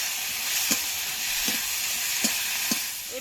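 Ginger and garlic paste sizzles steadily in oil in a frying pan for a traditional Bengali chicken dish, with four distinct spatula scrapes breaking through the constant hiss.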